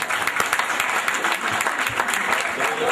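A gathered audience at a Yalova reunion applauds in memory of a late friend, steady dense clapping from many hands filling the room for the whole stretch, with no voices over it.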